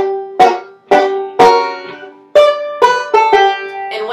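A banjo plays a chordy Reno-style lick, about eight bright plucked notes and chords picked in an uneven rhythm with slides, each attack ringing briefly before the next, close and loud with no talking.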